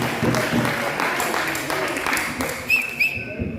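An audience claps in a district council hall during a World White Cane Day program, a continuous patter of applause with talking mixed in.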